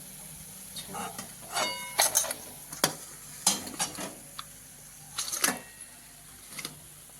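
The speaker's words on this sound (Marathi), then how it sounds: "गॅस बंद करून टाकू सगळं काढून घेतो तेल असं सगळं निथळून घ्यायचं" Fried colocasia fritters lifted from hot oil with a metal spoon, giving a series of close, sharp scrapes and clinks against the pan over a soft sizzle.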